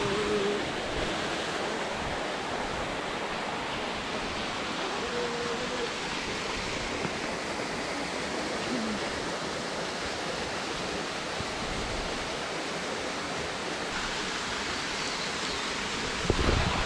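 A mountain stream in a valley near Darjeeling, India, rushes steadily and continuously, a dense even roar with no breaks, close by and fairly loud.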